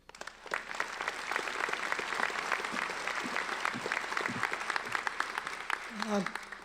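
An audience at a university nursing commencement ceremony claps warmly to welcome a speaker. The dense, steady applause fills the hall for several seconds, then thins out as a voice begins near the end.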